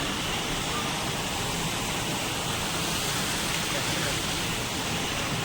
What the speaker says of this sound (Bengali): এখন রয়েছি তুর্গা জলপ্রপাতে, জলপ্রপাত আমরা দেখি তো জায়গাটা দেখি।